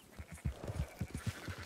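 Sheep in the video game Red Dead Redemption 2 bleating in a quick run of short, close, rhythmic calls with nobody talking.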